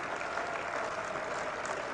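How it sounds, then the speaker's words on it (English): Cricket crowd at an England versus West Indies Test match in 1991 applauding, a steady, distant wash of clapping held evenly over about two seconds as broadcast ambience. "crowd relieved applause almost"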